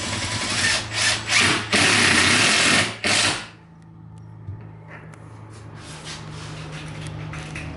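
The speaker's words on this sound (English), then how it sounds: "I'm just going to put 2 screws on each end" A power driver sets screws into the false front of a wooden sink cabinet in several loud, close whirring bursts, followed by a quieter stretch of faint handling.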